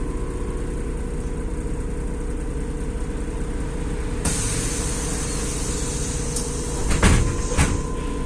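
Doors of a MAZ city bus on a night ride close with a soft pneumatic thump near the end, preceded by a shift in the steady engine rumble and followed by a brief clatter.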